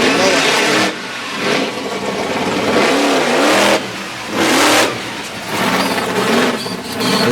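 Ford monster truck with a Roush Yates racing engine at a Durham, Connecticut competition, its engine revving in repeated loud surges that rise and fall, close and powerful, with a crowd and arena noise behind.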